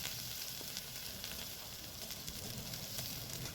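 Spices for a rui fish curry sizzle and fry steadily in hot oil, a dense continuous crackle with faint scattered pops, close and fairly quiet throughout.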